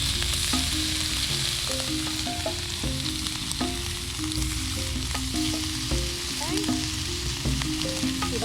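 Strips of bacon sizzling in a three-legged cast iron spider skillet, a loud, constant close-up crackle and spit with light stirring and scraping sounds, no voices.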